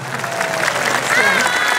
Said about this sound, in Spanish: Que se prolonguen esos aplausos